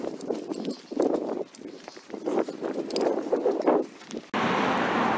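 Horses walking along a road, their hooves clip-clopping in an irregular steady rhythm at close range, followed at the end by a sudden burst of broadband wind or rushing noise.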